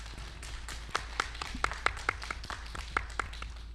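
A gathering applauds its organizing committee with light, sparse clapping, a handful of distinct sharp claps standing out over a low hum and a thin background patter.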